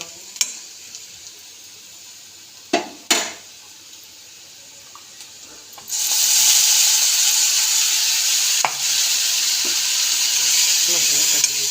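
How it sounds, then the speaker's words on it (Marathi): Onion frying in a pan for a dish with aubergine and potato: a few clinks of utensils give way to a sudden loud, steady sizzle as it hits the hot oil, continuing with occasional stirring scrapes. "कांदा भाजते"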